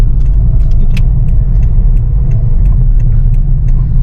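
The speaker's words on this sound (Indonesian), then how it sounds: "Ini suara gemuruh ya, gemuruh dari ban." Steady, loud low rumble of tires on rough, coarse asphalt, heard from inside a 2010 Toyota Vios G automatic sedan while driving, with faint light rattles and ticks over the continuous drone.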